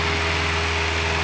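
A Kubota L2802 tractor fitted with a tiller runs with a constant loud engine hum and vibration, heard close and steady without voices.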